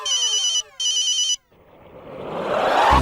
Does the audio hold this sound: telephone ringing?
yes